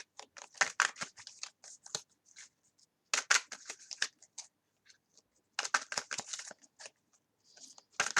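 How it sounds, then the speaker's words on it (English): Oversized Dreams of Gaia tarot cards are shuffled up close, giving quiet crisp riffling and scraping bursts in three or four clusters separated by short pauses. "They're almost too big to shuffle normally."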